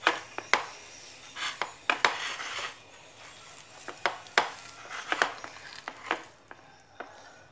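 Vietnamese grilled pork paste for nem nuong kneaded by hand in a bowl, producing irregular wet squishes and soft knocks against the container, fairly close and moderately loud, with quiet gaps between squeezes.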